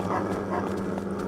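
Hostile dogs in the Fragile Dreams: Farewell Ruins of the Moon video game, heard as a few short, faint barks and yips spread across a steady low game hum, somewhat distant.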